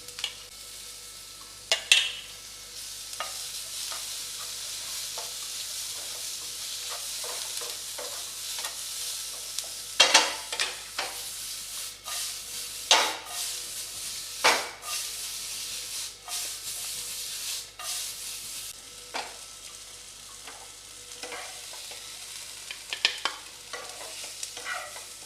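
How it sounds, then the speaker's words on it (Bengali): Tomatoes sautéed with a little salt on a high flame for a paneer tikka wrap: steady close sizzling with repeated scraping stirs and occasional clinks, no talking. "টমেটো সবগুলোকে সটে করব, হাই ফ্লেমেই সটে করব।"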